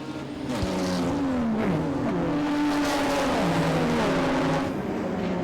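HQ Holden race cars at the Winton Festival of Speed in Victoria roar past in a continuous dense pack, engines droning and shifting pitch loudly as they sweep by near the canteen during the race.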